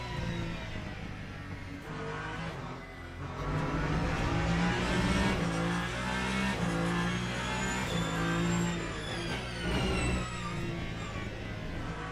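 An LMP3 prototype race car in Le Mans Ultimate at Barcelona, its engine droning and rising through the revs in steady sweeps, with a brief dip between gears and a whining pitch climbing late, loud and close.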